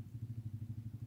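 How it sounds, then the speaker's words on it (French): A quad bike (ATV) engine chugs in a quick, regular low pulse, faint and somewhat distant on a quiet trail, with no voices. "j'entends un mec passer en quad"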